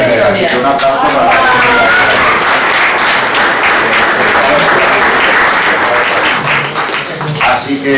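An audience at a Spanish book presentation about León Degrelle bursts into loud, sustained applause. Dense clapping fills the room throughout and thins slightly toward the end.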